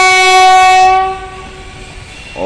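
Aastha Special passenger train bound for Veerangana Laxmibai Jhansi sounds a loud, close, sustained horn that cuts off partway through, followed by the rumble of the moving train.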